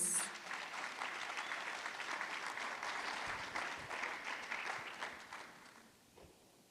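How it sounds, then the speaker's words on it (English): A seated audience gives warm applause for a panelist at a youth empowerment weekend in Mpumalanga, South Africa, sustained and even throughout before tapering off at the end. "Round of applause."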